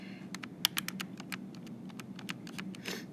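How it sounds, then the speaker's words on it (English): Fingers tap out numbers on a calculator's keys, a quick irregular run of light clicks close by in a quiet room. "all we have to do now is type in our calculators"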